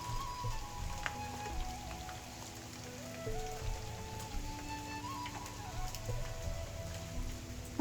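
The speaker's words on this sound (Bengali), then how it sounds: "গাছের পাতার মধ্যে বৃষ্টি পড়তেছে কত সুন্দর লাগতেছে" Steady rain patters continuously on leaves, a dense, even hiss with a faint tonal hum running underneath.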